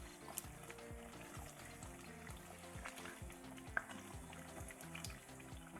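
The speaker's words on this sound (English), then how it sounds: "we'll just let it fry, let it cook" Oil frying steadily in a pan while Haitian chiktay cooks, a soft continuous sizzle with small crackles and pops, heard close and fairly quiet with no talking.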